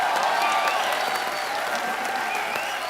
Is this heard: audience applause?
yes